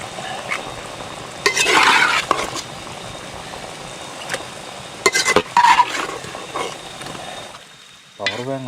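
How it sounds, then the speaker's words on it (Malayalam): Tilapia fish curry cooking in a pot at a forest camp shed, with bursts of sizzling and stirring scrapes rising and fading over a steady low bubbling, then a brief clatter at the end. "മീൻ തിളച്ചുകൊണ്ടിരിക്കുകയാണ്."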